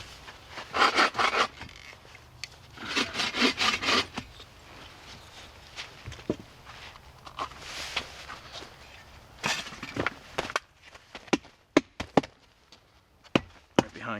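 A knife carves small chisel marks into a piece of wood at a winter campsite, making a series of sharp, close taps and scrapes that come in irregular bursts separated by quieter pauses.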